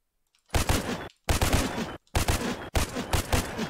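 Four rapid bursts of automatic fire ring out from an Uzi submachine gun in the Roblox game The Streets. Each burst is loud, close and sharply separated by brief silences.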